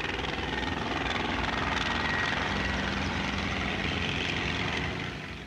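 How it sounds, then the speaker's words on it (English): A tiny Saunders-Roe Skeeter helicopter flies in a display, its rotor and engine giving a continuous, moderately distant drone that fades slightly at the end. "A tiny Skeeter helicopter shows that even waltzing is within its scope."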